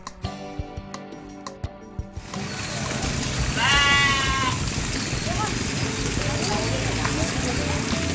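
At a Garut sheep farm run by young farmers in Palasari Girang village, Sukabumi, West Java, one loud, close bleat rises over a busy pen after a few sharp clicks, with people talking in the background.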